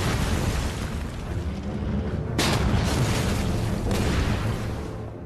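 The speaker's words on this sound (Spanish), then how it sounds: "Era una tormenta de fuego de artillería y ametralladoras." Sustained, loud wartime artillery and machine-gun barrage at an assault on a fort, a continuous dense roar of blasts and gunfire with two sharper bursts standing out partway through, no voices.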